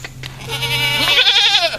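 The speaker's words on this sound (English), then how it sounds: "Crazy goat action." Goats bleat in a morning pen, several wavering, nasal calls overlapping close by with a steady low hum underneath.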